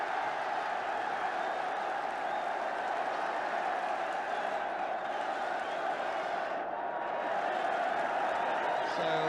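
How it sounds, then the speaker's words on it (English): Football crowd at a Southampton v Manchester United match, with United supporters applauding a free kick: a broad, steady wash of clapping and crowd noise throughout, dense and continuous without clear individual claps. "So the turn of the United supporters to applaud as McQueen applauds the kicker."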